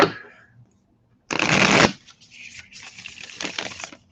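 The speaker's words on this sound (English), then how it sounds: "So, wait, I got to do one more shuffle." Tarot cards shuffled by hand in bursts: a dense riffling burst, a short pause, then a longer stretch of quicker shuffling up close, with no talk over it.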